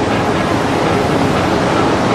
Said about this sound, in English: I mean, it's breezy, but how windy is it, really?